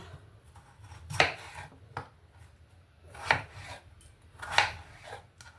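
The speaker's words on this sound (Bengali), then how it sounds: "আলুগুলোকে সুন্দর কেটে নেব" A knife cuts through potatoes in a home kitchen, giving three distinct, evenly spaced chopping strikes on a board about every second, close and crisp with nothing else heard.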